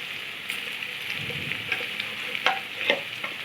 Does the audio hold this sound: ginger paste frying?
yes